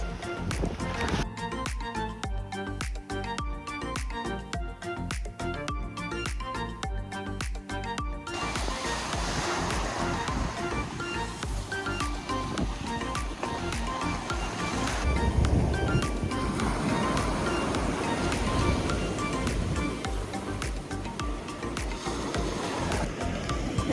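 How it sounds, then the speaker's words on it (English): Surf washes steadily onto a beach owned by the Air Force, a continuous broad roar of breaking waves that swells slightly midway, with no talk over it. "It's a nice beach that's apparently owned by the Air Force."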